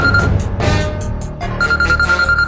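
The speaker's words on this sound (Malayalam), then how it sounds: "അതെ, എനിക്കൊരു ഫോൺ വരുന്നുണ്ട്" A telephone rings indoors with repeated electronic ringtone bursts in a steady pulsing pattern, fairly loud and close, with no talking over it.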